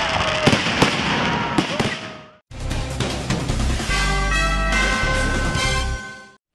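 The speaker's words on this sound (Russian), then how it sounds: "Красивой финальной точкой этого замечательного дня стал праздничный салют, осветивший яркими красками небо над Атомградом." A festive fireworks salute over the town of Atomgrad sets off repeated loud bangs and crackles, then a short gap and a dense rolling barrage of bursts.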